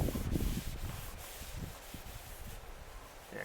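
Steel wool rubbed lightly over metal on a 1990 Ford Bronco II with brake cleaner, a soft close scratchy scrubbing in quick repeated strokes.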